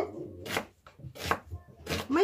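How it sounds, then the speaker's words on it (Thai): Three crisp knife strokes chop through onion on a cutting board, close and evenly spaced, each a short sharp thud with quiet pauses between and no talk. "หั่นอีกนะคะ"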